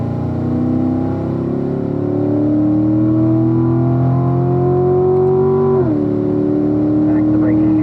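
A Chevrolet Corvette's engine pulls hard on a race track, a loud, steady drone climbing in pitch, then dipping briefly at a gear change to fourth before rising again, close and constant throughout.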